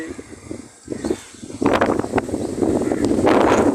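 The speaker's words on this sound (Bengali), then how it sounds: "অনেক প্রচুর বাতাস আবারও শুরু হইল" Strong wind gusts through an outdoor spot with trees during a storm, a rough broadband roar that builds from fairly quiet to loud and steady, with a voice talking over it.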